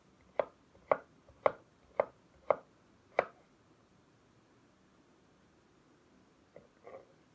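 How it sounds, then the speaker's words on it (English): A knife chops through vegetables on a board in six crisp, evenly spaced strokes, close and clear, followed by a pause and two softer knocks. "Easily chop this."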